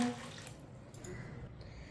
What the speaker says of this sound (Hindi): अब इसमें 3 गिलास पानी डालेंगे।